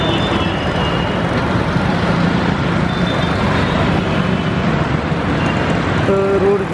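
Dense, steady roar of heavy road traffic at the Thakkar Bapa Nagar cross road in Ahmedabad, near a city bus stop, with engines rumbling continuously, scattered horn toots and a brief whine near the end.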